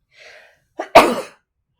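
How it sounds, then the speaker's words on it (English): A single sneeze from a person partway through a relaxed cross-stitch chat, a quick sharp inhale-and-burst that is loud and close, preceded by a faint breathy build-up. "I'm going to sneeze."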